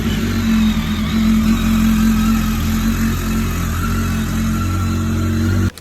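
A BMW K 1300S motorcycle's exhaust runs loud and steady close by, a continuous deep engine drone held at an even level for nearly six seconds before cutting off abruptly.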